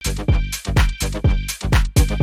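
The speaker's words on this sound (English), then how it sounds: "drums without return channel sounds like this." A punchy, looped drum pattern without a compression return channel, with steady kick and snare hits in a regular groove, played alone and fairly loud with a dry, uncompressed feel.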